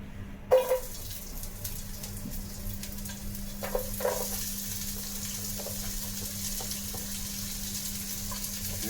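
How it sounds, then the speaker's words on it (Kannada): Chopped onion frying in hot oil for a spicy crab masala, a steady close sizzle that rises and crackles after the onion drops in, with faint stirring clinks over a low constant hum. "ಎಣ್ಣೆ ಬೇಕು, ಎಣ್ಣೆ ಬಿಸಿ ಆಗ್ತಿದೆ."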